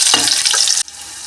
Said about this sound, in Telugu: ఆయిల్ ఆల్రెడీ హీట్ అయింది. కొన్ని ఆవాలు,